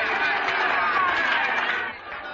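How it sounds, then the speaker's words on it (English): Crowd of waiting people in an old 1941 film, a dense, continuous murmur of many voices chattering at once, steady and fairly loud before easing off slightly near the end. "What a crowd."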